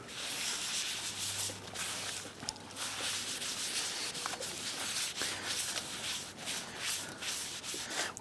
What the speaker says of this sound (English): Use a gasket scraper or whatever you have to go ahead and clean this.